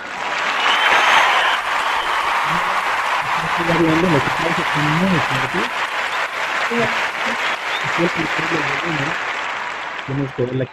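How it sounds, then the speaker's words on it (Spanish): Applause sound effect from the Spreaker podcast app, a dense, loud burst of clapping and cheering that carries on steadily while a person talks over it. "Voy a grabar, voy a poner aplausos."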